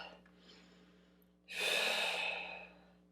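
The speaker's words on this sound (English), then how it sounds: "Breathing out." A long, audible out-breath during an at-home Pilates workout, a soft breath followed by a louder, airy exhale lasting about a second, close and clear.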